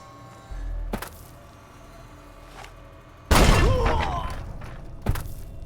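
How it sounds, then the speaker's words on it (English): A small explosion goes off in the game Fallout: New Vegas, Dead Money DLC, a sudden loud burst of crackling noise after an earlier thud, followed by another sharp thump near the end. "This actually caused a small explosion"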